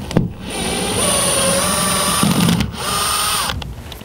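A power screwdriver with a Phillips bit backs screws out of a SMART Board, a loud close whirring drill run in two sustained bursts separated by brief pauses, with no talk.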